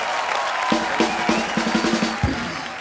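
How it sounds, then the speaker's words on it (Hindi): A studio audience on a comedy talk show applauds for Hrithik, a dense wash of clapping and cheering with short punchy band stabs landing in a rhythmic run over it. "जोरदार ताली हो जाए ऋतिक भाई के लिए।"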